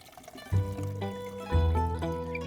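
Water pours into a watering can, two bursts of gushing, filling liquid with a rising tone, close and clear with no talking.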